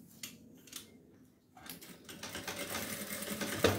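Sewing machine backstitching velcro onto a doll's dress, with short rattling bursts that give way to a steadier stitching run, close but fairly quiet, and no one talking over it.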